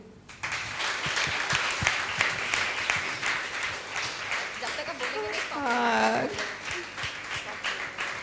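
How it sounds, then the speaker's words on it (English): A group of people claps together during a party-style game, a busy stream of sharp hand claps running for several seconds while voices and brief sung or shouted notes rise over the clapping. "Captain says, start clapping."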